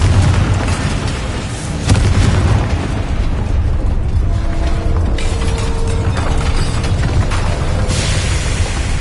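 A Confringo spell explodes in a video game with a sharp burst followed by mechanical clatter and rumbling, more blasts and crackles following amid dense game effects.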